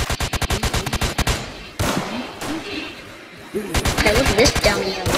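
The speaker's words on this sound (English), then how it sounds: "Oh, I hit him with a pistol." Pistol gunfire in a Roblox zombie shooter, a rapid string of sharp, loud shots in two bursts separated by a quieter stretch, with a voice talking over the action.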